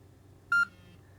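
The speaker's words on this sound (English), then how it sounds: "And it'll beep if it stays above." A FlySky G11P temperature sensor alert gives one short, clear electronic beep, lasting about a tenth of a second, over faint low background hum.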